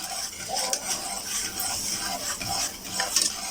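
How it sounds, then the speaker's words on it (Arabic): A fenugreek mixture is stirred in honey in a pan with steady scraping, swishing strokes, close and continuous, over a soft bubbling sizzle with no talking. "انا مستمريه في التقليب برضو في العسل"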